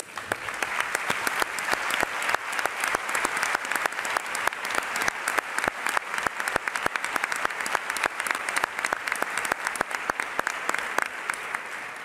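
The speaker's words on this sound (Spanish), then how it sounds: "me gustaría que el plenario del Congreso los recibiera con un caluroso aplauso" Warm, sustained applause fills a congress plenary hall at a union confederal congress in Valencia, many hands clapping steadily and loudly for over twelve seconds with no break.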